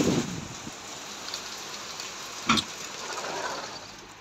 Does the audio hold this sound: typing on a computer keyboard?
no